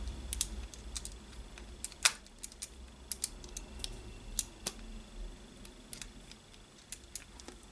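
Small, sharp clicks of a screw turned anti-clockwise on a Tamiya TT02B RC car tick irregularly against quiet background hiss, close and fairly faint, with no voices.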